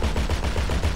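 Rapid automatic gunfire in GTA 5, fired at an aircraft, comes as a dense, loud burst of repeated shots with no pauses across the moment.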